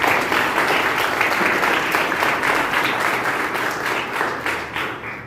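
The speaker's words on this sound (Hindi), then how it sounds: "तो एक बार अपने लिए भी जोरदार ताली बजा दीजिए।" Loud, enthusiastic applause from the audience at a youth parliament event, dense clapping that starts strong and slowly tapers off toward the end.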